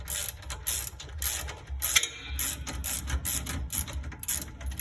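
Repeated ratchet clicking from a wrench working a shock absorber bolt loose on a Ford Falcon, a steady series of close, bright mechanical bursts with short pauses between strokes.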